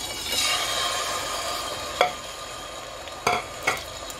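Onions frying in hot oil, stirred in a pan, give a steady close sizzle with a few sharp scraping strokes of a spoon near the end; no one speaks.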